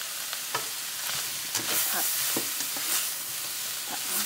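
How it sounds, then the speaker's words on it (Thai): Sliced king oyster mushrooms stir-fried in a hot pan, a steady sizzle with repeated scraping and tossing strokes of a utensil, close and fairly loud, without talk. "ก็ใส่เห็ดลงไป ใส่หมดเลย เพราะว่าเดี๋ยวมันก็ยุบนะคะพอเห็ดสุก"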